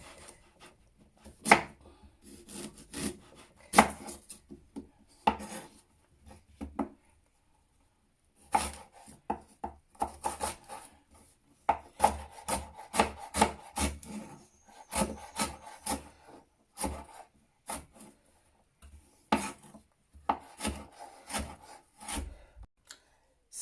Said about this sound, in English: So now it's time to cut these big pieces.